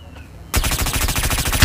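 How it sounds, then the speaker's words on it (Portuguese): Rapid automatic gunfire in the shooter game Omega Legends bursts in after a quiet start, a loud, continuous string of shots with a heavy final blast. "Os caras estão atirando pelas costas, não vão me acertar"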